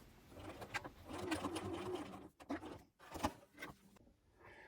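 A domestic sewing machine stitches along lines in fabric for a simple Christmas tree decoration, running in steady whirring bursts with brief pauses at pivots and back stitching, close and fairly quiet.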